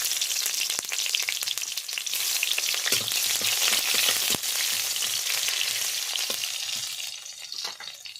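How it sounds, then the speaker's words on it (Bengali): Chopped onion with panch phoron spices fries in hot mustard oil in a pan, a steady close, loud sizzle with crackling pops and brief stirring scrapes, easing slightly toward the end. "দিয়ে ভালোভাবে মশলাগুলো ভেজে নেব।"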